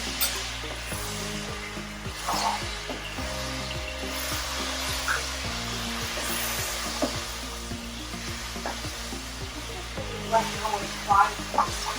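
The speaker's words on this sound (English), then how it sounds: "So you can hear that sizzling, so that wok is nice and warm right now." Garlic and ginger sizzle steadily in a hot wok, a continuous crackling hiss with occasional stirring scrapes and clinks.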